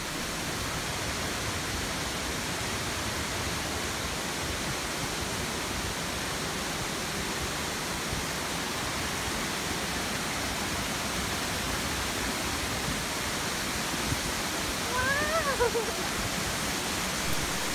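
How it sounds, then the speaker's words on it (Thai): Khlong Lan waterfall crashing onto rocks below: a continuous, dense roar of falling water, steady and enveloping with no breaks, heard from close by. "เข้ามาใกล้น้ำตกมากเท่าไหร่ครับเราก็จะได้ยินเสียงดังกึกก้องจากน้ำที่ตกลงมากระทบแผ่นหินด้านล่างครับ"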